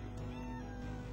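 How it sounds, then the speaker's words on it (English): A pet cat meows insistently up close indoors, one drawn-out cry that fills the short moment on its own. "That's my cat."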